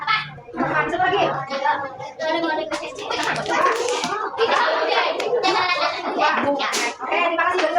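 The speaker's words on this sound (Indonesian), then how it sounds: "Oke, terima kasih sudah tepuk tangan." Children in a classroom clap together in a lively, sustained round of applause, mixed with kids' voices and chatter throughout.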